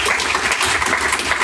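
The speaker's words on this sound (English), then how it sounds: "So big round of applause to them as well." Dense, steady applause fills a JavaScript meetup room in Austin, a loud wash of many hands clapping at once for the full moment with no pauses.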